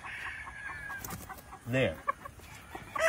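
A gamecock rooster gives a few short clucks at close range, surfacing amid low background noise and a brief spoken word.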